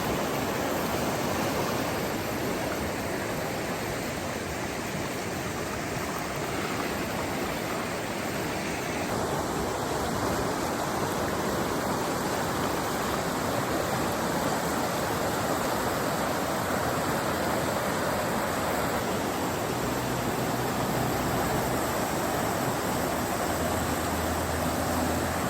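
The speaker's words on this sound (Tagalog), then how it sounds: "Lakas ang tubig, oh." Strong water rushes steadily at a waterfall, a loud, dense, unbroken roar that continues throughout with no voices.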